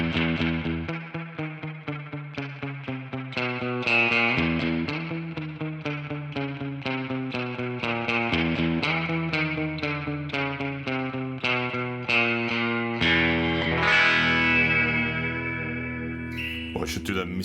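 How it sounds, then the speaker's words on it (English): Electric guitar played through a modelled amp with the spring reverb turned up high, strummed chords ringing out with long springy, echoing tails and a rhythmic picking pattern, loud and up close with no voice over it. "Let's crank it just so you can hear what the reverb sounds like."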